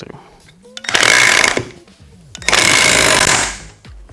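Milwaukee C12 PN-0 cordless hammer driving a nail, heard as two loud, rapid buzzing hammer bursts of about half a second and one second, separated by a short pause.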